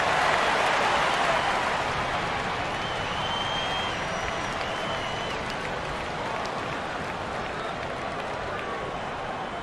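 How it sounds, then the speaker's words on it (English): Arena crowd in the basketball game WNBA 2K23 applauding during a timeout, with steady dense clapping and cheering that fills the whole stretch at a loud, even level. "Fans, please give a big round of applause for your Youth Squad."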